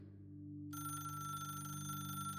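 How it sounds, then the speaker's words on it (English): A wall-mounted telephone with a dead line rings once, a steady electronic-sounding tone that swells in after a brief quiet start and holds, close and clear with no talk. "At 3:17, the telephone on the wall rang once."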